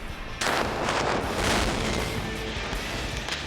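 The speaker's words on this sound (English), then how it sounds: "That was a phenomenal explosion." Molten salt erupts inside a toilet with a sudden loud explosive burst, followed by a sustained roaring, spattering rush of steam and water that stays loud for several seconds.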